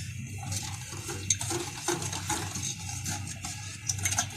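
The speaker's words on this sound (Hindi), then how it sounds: "पानी शामिल कर देते हैं और अब इसको अच्छे से मिक्स कर लेते हैं" Bread being stirred with water in a bowl for bread rasgulla, giving soft wet squelching and scraping with faint clinks against the bowl, steady and close.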